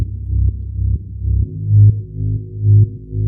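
A synth bass line soaked in reverb and delay throbs in slow repeating low pulses, deep, loud and smooth, with echoing tails blurring each note and nothing else playing.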